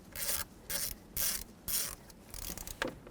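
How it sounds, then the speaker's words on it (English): A Phillips head screw is backed out from under the steering column cover of a 1995–2004 Toyota Tacoma, giving four close, rhythmic bursts of ratcheting, scraping turns with brief pauses between them and a lighter clicking rattle at the end. "There's actually another Phillips head screw down here. You have to go in pretty much straight on and unscrew it"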